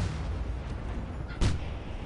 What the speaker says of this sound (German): boah, voll die fette Explosion!